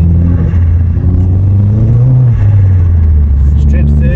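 A stage 2 tuned Vauxhall Astra VXR with about 320 bhp drones loudly and steadily, its engine note dipping and rising as the gears are shifted through third, fourth and back again.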